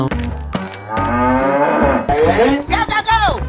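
A cow moos loudly in a 3D animal sliding game, one long drawn-out low call followed by shorter bellows and bright game effects, close and prominent.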